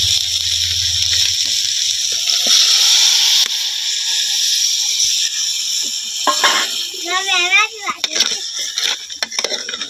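Chillies sizzle in hot oil on a wood-fired clay stove for a crab curry, a loud, steady hiss, then settling as some clatter and a brief whistle-like sound follow.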